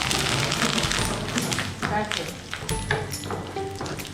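Curry leaves and cumin hitting hot oil with browning onions for a Pakistani pakora curry, giving a steady loud sizzle and crackle throughout, with occasional stirring clinks and metallic pings over it.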